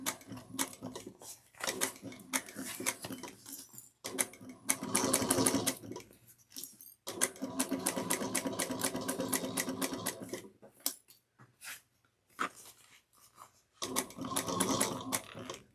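A sewing machine stitches a sling bag pattern in rapid mechanical bursts, stopping and restarting several times as it backstitches, close by with short pauses between runs.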